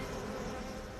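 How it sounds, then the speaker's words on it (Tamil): A dense swarm of bees drones in a steady, loud, continuous buzz in an animated story, with no voices over it. "்ரமாதித்யனே, இன்று இந்த தேனீக்கள் உன்னை விடப்போவதில்லை."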